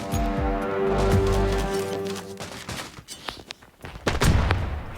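Rapid bursts of video game gunfire crackle in quick succession, loud and close, with sharp individual shots trailing off toward the end.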